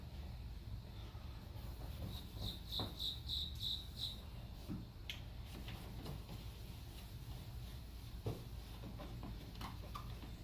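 A cricket chirps in a quick burst of about six bright, regular pulses, then goes quiet, while faint clicks and handling noises come from someone working on a Volkswagen Jetta headlight nearby.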